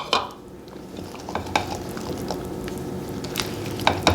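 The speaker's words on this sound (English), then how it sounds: "I'm just going to use a spatula here. Just want to gently fold them in" Fresh cranberries gently folded into quick bread batter with a spatula, soft wet scraping and squelching strokes with a few light clicks against the bowl, close and steady.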